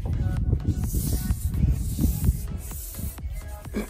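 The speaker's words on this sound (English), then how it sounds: "I'm just gonna get a belt sander on that" Belt sander flattening a fibreglass boat hard top on a 20 ft Voyager Ghia, a close, continuous coarse rasping hiss with slight surges as the sander moves.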